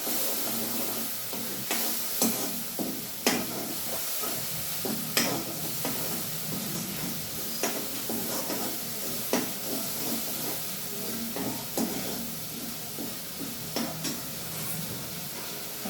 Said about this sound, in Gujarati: પાણી થોડુંક જ એડ કરવાનું થોડુંક રસો બનાવવા માટે આવી રીતે મસાલાને પકાવવા દઈશું સારી રીતે